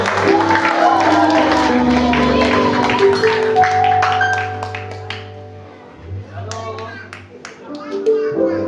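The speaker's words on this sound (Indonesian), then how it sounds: "Tepuk tangan dulu dong." A Christmas Day congregation at a Pentecostal church claps and cheers loudly over music for several seconds, then the applause dies down into scattered claps and murmuring voices.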